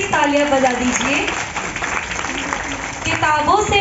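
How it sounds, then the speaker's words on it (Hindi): Audience applause at the stage of a moral-education camp closing ceremony, a dense, steady clatter of many hands filling the middle, with voices heard over it at the start and end. "एक बार तेज तालियां बजा दीजिए"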